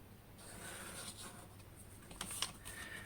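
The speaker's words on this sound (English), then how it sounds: "I'm placing my front cover board on here and drawing around" A pencil traces around the edge of a front cover board laid on material for a handmade autumn journal cover, a faint, steady scratchy drawing sound close by with a few brief louder strokes near the end.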